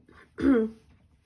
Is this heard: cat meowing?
no